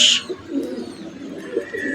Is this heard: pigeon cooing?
yes